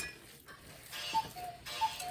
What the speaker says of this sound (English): And there goes the clock.